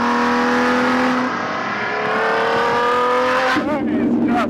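A sports car engine revs hard and loud, pitch climbing steadily, then dropping and surging again as it shifts, close and continuous.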